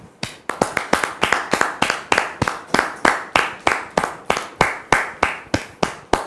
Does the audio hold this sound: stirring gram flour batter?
no